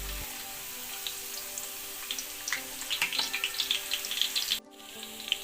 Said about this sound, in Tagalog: magpapainit na po tayo ng mantika. Ayan. So, unang ilalagay po natin is yung bawang